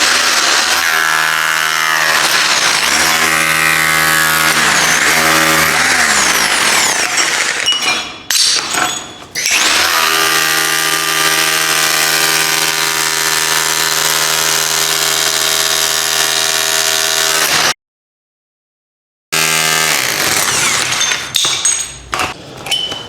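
A Bosch PBH 2000 RE SDS hammer drill chisels and drills into brick, with loud sustained hammering bursts, a short pause and a brief silence before the tool starts again.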